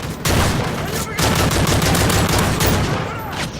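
Rapid gunfire in the Call of Duty MW3 Survival Dome, loud sustained bursts of automatic fire with brief gaps and sharp shots throughout.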